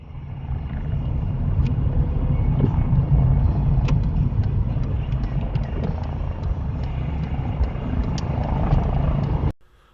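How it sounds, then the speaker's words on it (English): An air ambulance helicopter whirs steadily overhead, blended with a constant low rumble like road noise inside a moving car, cutting off abruptly at the end. "that whirring sound you can hear is the air ambulance looking for a place to land."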